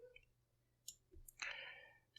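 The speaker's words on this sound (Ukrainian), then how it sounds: "Клікаю, протягую." Computer mouse clicks during digital drawing: a few faint, sharp clicks spaced apart, then a brief louder scratchy swipe, quiet and close with no talking.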